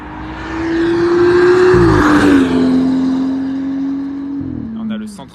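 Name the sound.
BMW 1 Series race car tyres and engine passing on track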